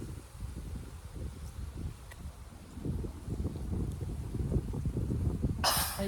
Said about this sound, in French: il y a un peu de vent, mais c'est pas grave